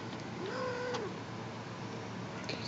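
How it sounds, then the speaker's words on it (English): A small kitten gives a short, high meow over a steady hiss of background noise, then a faint second chirp near the end. "Baby kitties are getting bigger."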